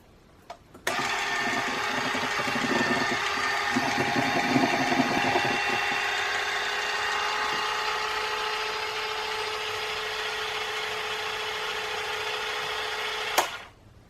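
An electric mixer whirs steadily through gluten-free vanilla cupcake batter, a sustained motor drone starting abruptly with some early clatter in the bowl and running evenly for over ten seconds before cutting off.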